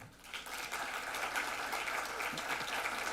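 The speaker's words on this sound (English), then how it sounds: "So a round of applause for our panels today." Audience applauding the panelists at a conference-style discussion, a steady wash of clapping that holds at moderate level for the whole stretch, somewhat distant in the room.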